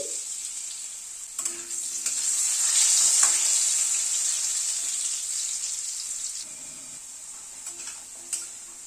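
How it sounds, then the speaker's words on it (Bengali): Diced, lightly boiled potatoes sprinkled with salt frying in oil, a bright continuous sizzle that swells in the middle and then eases off, with faint clinks of stirring. "আলুটাকে ভেজে তুলে নিচ্ছি"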